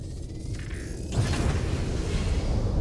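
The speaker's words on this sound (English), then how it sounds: "Landing gear retracted." Spaceship landing gear retracts in Elite Dangerous, a mechanical creak and whir followed by a low thud as it locks away, heard alone over a steady hum.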